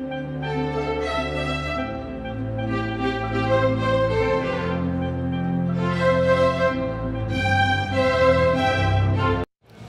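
The final mix of a TV series score plays, with live violins carrying a swing-time melody over sustained lower harmony. It is clear and full throughout, then stops abruptly near the end.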